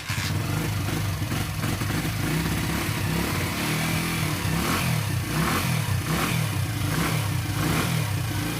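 Honda XR80 motorcycle engine fitted with a China PZ20 carburetor, running close by with a steady rough mid-pitched drone and slight wavering revs throughout.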